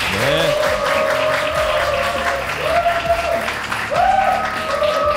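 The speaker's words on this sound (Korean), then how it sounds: "박수 한번 다시 부탁드리겠습니다" An audience in a studio for a Korean investment survival show claps in a steady, dense wash of applause throughout, with brief tonal sounds over it and no clear talk.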